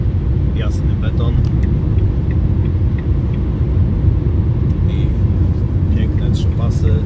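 Steady loud road roar and tyre rumble from a car cruising on a three-lane German concrete highway, a continuous drone with faint higher ticks and no pauses.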